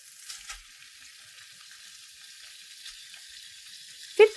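Pork belly hits a hot pan with green curry paste and herbs, giving a faint, steady sizzle that ends in a sudden louder clatter.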